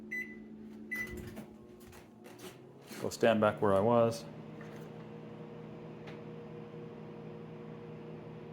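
Keypad beeps and a door thunk start a microwave heating a glass of water for 30 seconds, which then hums steadily; someone speaks briefly near the start.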